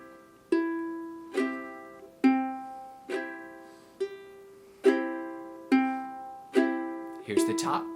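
Ukulele played by plucking individual notes with strums in between, about eight separated bright plucked attacks each ringing out and decaying, with a quick strum flourish at the end, close and clear with no talking.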